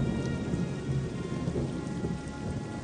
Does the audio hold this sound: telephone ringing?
no